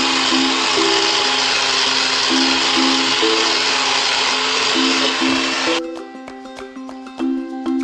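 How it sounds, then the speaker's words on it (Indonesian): A hand grinder sanding PVC whines loudly and steadily against the plastic, then cuts out near the end, leaving a clattering rattle as it winds down. "Kita amplas menggunakan gerinda tangan"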